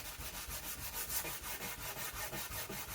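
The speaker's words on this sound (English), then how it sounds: "so sanding it is in the meantime." Scrap wood for a workbench is sanded by hand in quick, rhythmic back-and-forth strokes, a close, steady scratchy rasp repeating about four times a second with no talking.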